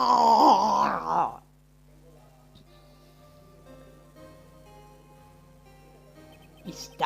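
Von Karma lets out a loud, drawn-out anguished scream in the Ace Attorney video game. It is strained and groaning, lasts about a second, and then drops off to near silence with faint pattering ambience.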